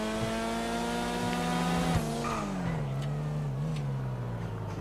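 In GTA V, an Ocelot Penetrator sports car accelerates hard. Its engine tone climbs in a steady rising whine with a gear change partway, loud and continuous, alone with no talk.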